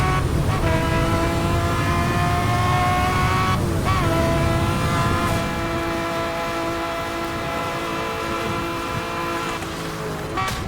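Car accelerating in the racing game Need for Speed: Hot Pursuit (2010), a loud engine whine climbing through gear shifts with harmonic tones rising and dropping, continuous throughout without talk.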